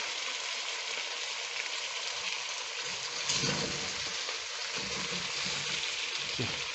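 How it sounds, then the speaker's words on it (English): Potatoes stirred gently as they fry in a pan with beef give off a loud, continuous sizzle close up, with occasional soft scraping from the stirring and no talking. "add the potatoes. Just gently stir them and make sure they don't break."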